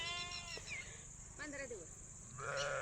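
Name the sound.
sheep bleating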